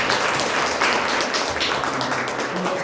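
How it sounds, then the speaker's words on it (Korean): A church congregation applauding in welcome, a dense, steady patter of many hands clapping together that sustains evenly throughout. "다시 한번 박수로 환영하시겠습니다"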